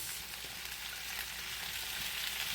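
Sausage, peppers and onions sizzle with potatoes in a crowded frying pan, a steady close hiss of frying that continues without pause.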